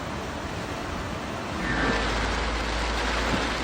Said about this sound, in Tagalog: Humampas-hampas pa ang tubig sa mga bahay sa gilid ng ilog.